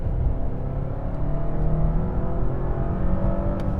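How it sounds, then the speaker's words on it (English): A 2022 Bentley Flying Spur Hybrid accelerating in hold mode, a steady, loud engine and drivetrain roar that rises gradually in pitch over a few seconds, with no one talking. "let's go ahead and drop it down into hold mode and see how this vehicle is able to accelerate"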